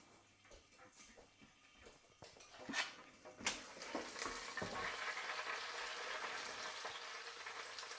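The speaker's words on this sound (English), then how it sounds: "The sizzle of the last meal going down." Salmon sizzles in a frying pan as a final meal cooks. Quiet clatter and stirring come first, then a loud, steady hiss of hot fat fills the last few seconds.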